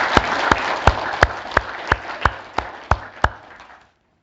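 A Korean church congregation at Yeomgwang Church's Sunday service claps in unison, about ten evenly spaced loud claps over a bed of scattered applause, ending abruptly after nearly four seconds.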